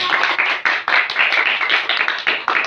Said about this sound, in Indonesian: Untuk kelompok 2 beri aplaus untuk kelompok 2